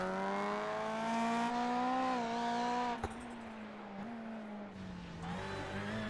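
Onboard sound of Alex Abedi's rallycross race car in a NASA Rallycross Challenge heat at Sonoma: a loud, steady engine drone whose revs rise and dip through gear changes, with a sharp thump at the jump.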